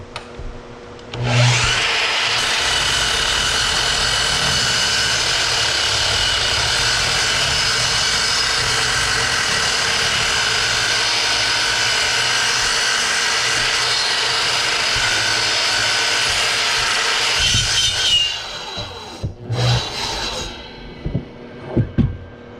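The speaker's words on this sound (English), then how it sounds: "Cutting thicker pieces of wood like this can sometimes be precarious." A power saw cutting through a thick piece of salvaged barnwood, a loud, steady, sustained whine lasting nearly twenty seconds before cutting off, followed by a few short knocks and shuffles.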